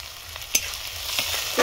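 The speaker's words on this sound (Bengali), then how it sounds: "পেঁয়াজ রসুনটা একটু ভেজে নেবো ভালো করে।" Crushed onion and garlic frying in hot oil with cumin, five-spice and green chili, a close, steady sizzle lasting under two seconds with a few sharp stirring scrapes and no voices.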